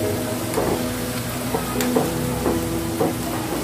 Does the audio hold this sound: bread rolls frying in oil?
yes